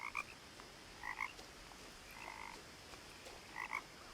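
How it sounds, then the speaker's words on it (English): Frogs croak in the video game What Remains of Edith Finch, short paired croaks repeating every second or so over a faint steady ambient background, quiet and somewhat distant. "Here are more frogs."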